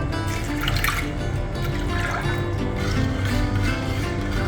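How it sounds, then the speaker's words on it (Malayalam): Water pouring into a pot of soaked chickpeas for boiling, a steady splashing trickle with light bubbling, close and continuous at moderate volume. "ഈ 1/2 കപ്പ് കടലയ്ക്ക് നമ്മൾ 2 കപ്പ് വെള്ളമാണ് വേവിക്കാൻ എടുക്കുന്നത്."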